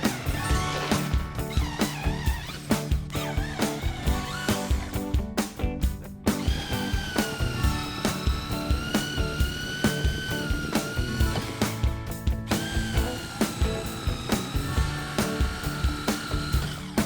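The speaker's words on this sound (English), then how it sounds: "we're going to start drilling directly beyond this first knot so the knot isn't a factor" Hitachi drill boring a spade bit into a treated 4x4 post, a loud continuous motor whine with repeated grinding, chattering cuts and brief pauses as the bit works through the wood.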